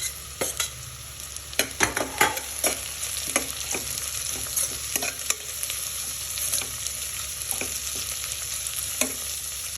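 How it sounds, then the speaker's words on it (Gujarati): Shredded cabbage and mixed vegetables for a veg noodle frankie are tossed and stirred in a hot pan, giving a steady sizzle broken by repeated sharp scraping clicks of the spatula. "ત્યારબાદ એડ કરીશું કેબેજ. તેને પણ સારી રીતના મિક્સ કરી લઈશું."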